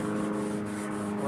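A green scrub pad and rag with paint thinner rub glue residue off a Formica laminate edge, making a steady, close scrubbing swish with soft rhythmic strokes.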